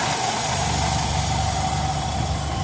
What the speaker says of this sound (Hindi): इंजन में साउंड तो कोई नहीं है।